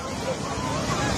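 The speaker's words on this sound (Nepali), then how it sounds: "आज स्याप्रुबेचीबाट तिर्सिल नदी बाढी आएको" Flood water of the Tirsil river surging down from Syaprubesi after a dam burst in Tibet, a dense, continuous roar of rushing water close by, heavy and unbroken, with wind buffeting the microphone.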